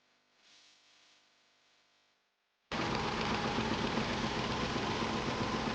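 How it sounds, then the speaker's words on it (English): A car engine idles after a top-end cleaning of a clogged motor, coming in abruptly and loudly after a faint, quiet stretch, then holding a steady, even drone with no talk over it. "The harsh, erratic shaking is completely gone. The idle is dead steady on the tachometer"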